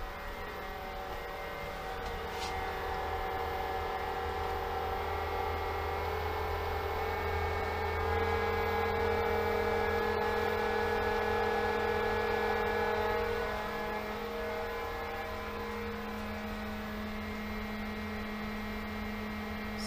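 A variable speed pool pump motor runs steadily nearby with a smooth electric hum and whine, rising slightly in pitch and loudness midway before settling again, heard alone without talk.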